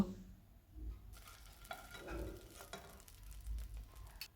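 Pumpkin pieces frying in a pan, a quiet, uneven sizzle with clinks and scrapes of a utensil moving the pieces around, and no talking.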